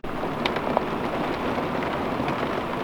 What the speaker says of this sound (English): Tell through the raindrops on the window.